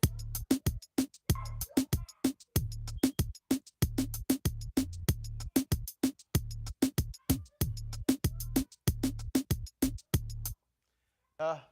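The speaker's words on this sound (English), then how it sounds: "and I was working on some old school reggaeton drums." Punchy old-school reggaeton electronic drum beat with deep bass hits in a steady, syncopated pattern, loud and dry, stopping abruptly near the end.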